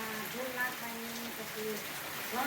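Steady rain falls in a soft, continuous patter, faint and even throughout, with a voice talking quietly underneath.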